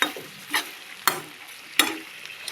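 Broccoli and potato curry with salt sizzles in a frying pan as a spoon stirs it, giving three sharp scraping strokes over a low, steady fry.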